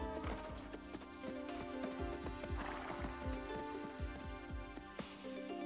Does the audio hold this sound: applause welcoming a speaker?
no